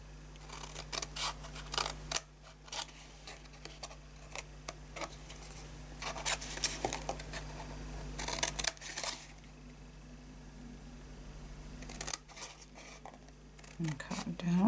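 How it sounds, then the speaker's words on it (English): Scissors snip the corners off a handmade fold-flat paper gift box for chocolate, giving quiet crisp clicks and cuts at irregular intervals, with brief soft speech faint in the background. "So cut these corners off."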